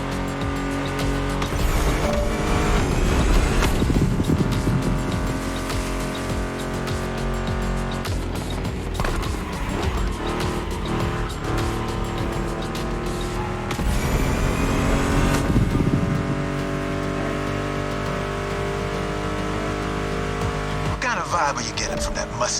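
A Ford Mustang GT muscle car in The Crew Motorfest racing game roars loudly, with sustained engine revving, gear changes and repeated tire squeals and skids over a backing of music.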